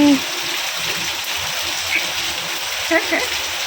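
Steady rainfall hisses and patters after hot weather, with light splashes and a few faint voices in the background.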